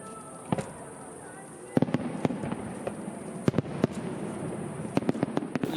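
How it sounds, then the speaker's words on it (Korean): Fireworks explode in sharp, irregular bangs and crackles, some in quick clusters, over a steady outdoor crowd murmur with distant voices at Gungnamji pond in Buyeo, South Korea, during a lotus festival. "불꽃놀이가 시작되면 국남지의 낭만은 절정에 이릅니다."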